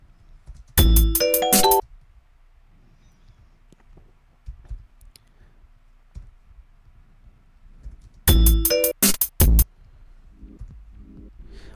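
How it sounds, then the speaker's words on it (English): Looped bell sample played back in Pro Tools: a quick cluster of bright, ringing bell strikes, then quiet, then the same loud cluster repeats about seven seconds later, with no talk. "I want to get these bells in here"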